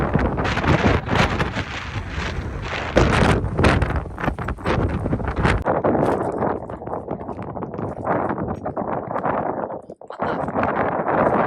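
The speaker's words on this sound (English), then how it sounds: "This is from the wind shaking the RV." Strong wind buffeting a parked RV, a loud continuous roar of gusts against the microphone with rattling and shaking throughout, dipping briefly near the end.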